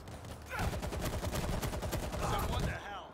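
Rapid automatic gunfire in the zombie shooter World War Z, a dense continuous burst lasting over two seconds, loud and close, with game sounds around it.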